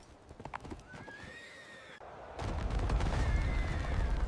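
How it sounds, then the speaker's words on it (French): Panicked packhorses and pack animals neigh shrilly while hooves clatter and stamp, a loud chaotic scene with rumbling impacts beneath, as in an ambush of a marching army in a mountain pass. "La panique a saisi les bêtes de somme et les précieux chevaux."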